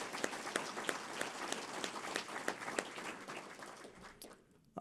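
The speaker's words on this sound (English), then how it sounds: "Please give that a round of applause." A faculty and staff assembly audience claps in a quiet, fairly distant patter of many hands with a few sharper individual claps, fading out near the end.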